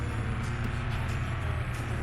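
A car engine in the driving game Car For Sale Simulator drones in a steady, loud, low hum without a break for the whole moment.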